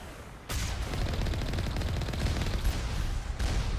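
Rapid gunfire in Mass Effect 1, a dense continuous burst of shots starting abruptly and running steadily to the end, loud and alone without talk.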